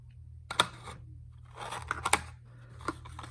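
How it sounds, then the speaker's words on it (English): A cardboard parcel box being pushed together, giving a few sharp snapping clicks with crinkling rustle of the board between them, close and fairly quiet. "You push it and it'll click."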